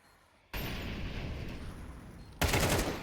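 Rapid automatic rifle spray in the Counter-Strike video game, a dense continuous rattle of gunfire that starts abruptly and swells louder for the final half second, with no voices.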